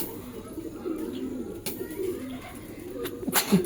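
Pigeons coo in low, soft murmurs against a steady background hum, with a brief rustle or flutter near the end; no one speaks.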